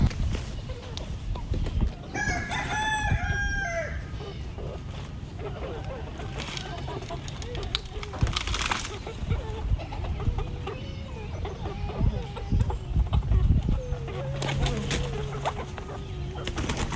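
Chickens cluck nearby while a rooster crows briefly near the start, with a person talking over the outdoor background.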